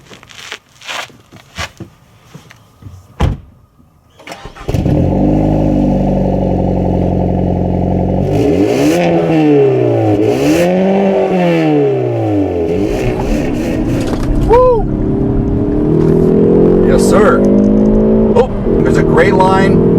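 2020 Hyundai Veloster with a performance exhaust revving through the gears, the engine note rising and dropping with shifts and a loud exhaust burble, heard from the cabin after some brief clatter at the start.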